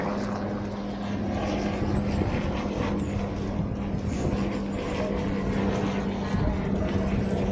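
Steady helicopter rotor and engine drone holding at a constant level throughout, with a strong low hum and faint voices murmuring underneath.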